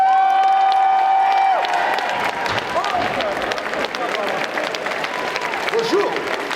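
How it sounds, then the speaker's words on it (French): Convention audience applauding and cheering for Jacques Chambon, a loud crowd roar with clapping and shouts filling the room, preceded by a brief held tone. "Je vous demande d'applaudir Jacques Chambon!"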